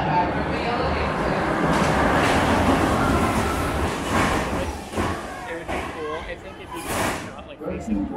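The train of the Montezooma's Revenge roller coaster at Knott's Berry Farm approaches the station with a steady rumbling roar and some clacks and thumps near the end. People talk close by over the noise.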